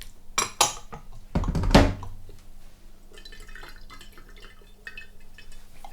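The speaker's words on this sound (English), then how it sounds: "Okay, Tian Shan, give it a rinse." Tian Shan Chinese green tea being rinsed with water: a short burst of pouring, then scattered light clinks of teaware and small drips, close and fairly quiet, with no talking.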